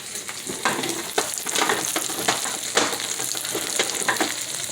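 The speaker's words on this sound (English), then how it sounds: "you see how I just put the beans? Let them fry a little bit more." Beans sizzling and frying in a pan while being cooked down for refried beans, a steady close crackle with a few stirring scrapes, no talking.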